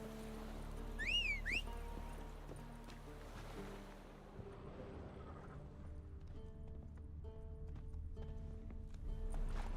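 Roach, Geralt's horse in The Witcher 3, gallops with steady clip-clopping hooves, quiet and constant, over ambient game sound and music, with a brief whinny near the start.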